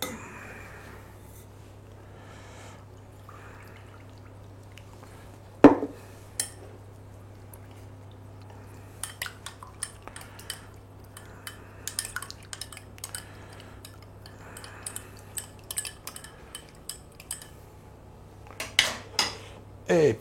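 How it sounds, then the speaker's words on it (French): Potato starch diluted with water is stirred in a pot, with scattered spoon clinks and scrapes against the metal, a sharp knock partway through, and quiet, irregular clatter over a low steady hum. "On a fécule de pommes de terre. On va diluer avec de l'eau."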